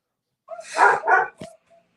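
A dog gives two close, loud barks followed by a short yip and a faint trailing whimper, all within about a second against silence.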